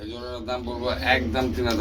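Black Damascene pigeons cooing close by at a pigeon sale, soft throaty coos running throughout with people talking over them.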